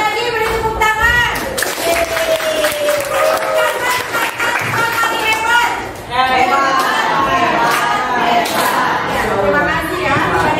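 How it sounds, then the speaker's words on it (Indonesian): Students in a classroom applaud after a presentation, a loud burst of mixed clapping with chatter, laughter and voices over it, dipping briefly midway before picking up again. "Sekali lagi beri tepuk tangan."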